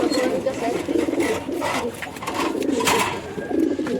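Pigeons coo steadily in a loft, their low soft calls running continuously at close range with a person talking over them.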